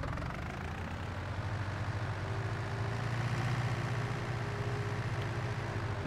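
A small tractor engine in Farming Simulator 19, a steady low rumbling drone running continuously at moderate level with no break or change in pace.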